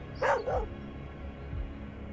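Dog in the Mist Survival video game barking twice in quick succession, fairly close, then a low thump or two over a quiet game ambience.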